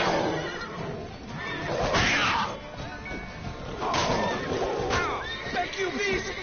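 A horse whinnies loudly in a Witcher 3 Blood and Wine battle scene, with neighs rising over crashing, thumping combat sounds and shouting voices.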